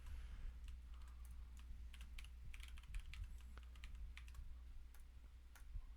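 Typing on a computer keyboard, a quiet stream of light clicky keystrokes in short irregular runs over a low steady hum.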